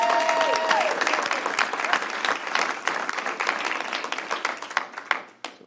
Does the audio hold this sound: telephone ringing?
no